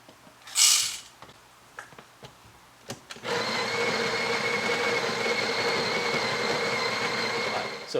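A Breville Barista Express burr grinder, set to grind size 16, starts up after a few faint clicks and runs as a steady, loud whirring grind until the end.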